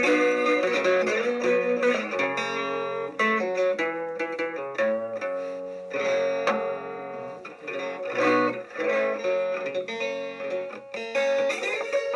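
A heavily distorted electric guitar plays sustained, buzzy chords and riffs, loud and continuous with no voices.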